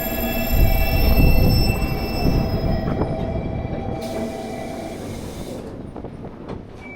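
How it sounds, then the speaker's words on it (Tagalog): A commuter train in Fukuoka, Japan rolls through close by, its steady rumble of wheels on rail and faint squeal filling the space with no voices over it. "Commuter train."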